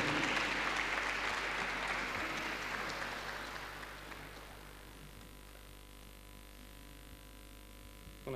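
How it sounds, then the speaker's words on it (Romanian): Audience applause at a UN human rights awards gala in 2015, a dense crowd clapping loudly at first and then gradually thinning and fading over several seconds, with a steady electrical hum underneath and no talking. "Cu mare drag vă oferim aceste aplauze"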